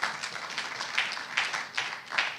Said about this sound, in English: Ladies and gentlemen, a round of applause for UBA.